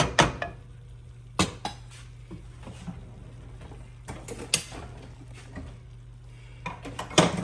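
Vegan chow mein scooped with a spoon, several sharp clanks and scrapes of the spoon against the pan at irregular intervals over a low steady hum, no talking.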